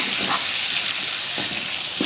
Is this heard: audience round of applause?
no